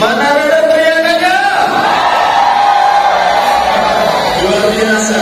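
A crowd at an awards ceremony for a company convention roars with shouts and cheers, a loud sustained swell of voices rising and falling for several seconds.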